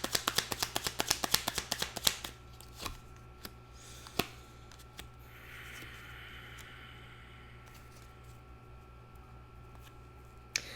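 Tarot cards are shuffled by hand in a quiet room, a rapid run of crisp riffling snaps for about two seconds, then scattered single card flicks and soft handling, close and faint.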